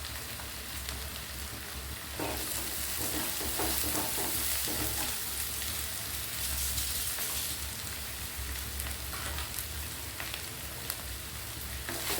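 Chopped green chillies sizzle and crackle steadily in a hot pan while coriander chutney is cooked, with a loud continuous frying hiss and occasional stirring sounds.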